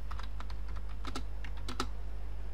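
Computer keyboard keys clatter in quick uneven bursts during a World of Tanks game session, close and crisp over a steady low electrical hum.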